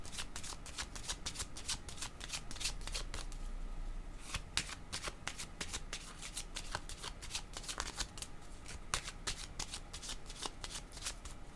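Tarot cards being shuffled by hand, a fast rapid series of crisp papery riffles and flicks repeating steadily throughout, close and fairly quiet.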